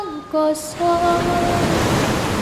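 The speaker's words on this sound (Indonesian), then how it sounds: "Suara ombak ikat yo mecah" A singing voice fades as a broad wash of ocean surf rises on the coast at Dadapan, Pringkuku, Pacitan, Indonesia, waves breaking with a steady roaring hiss to the end.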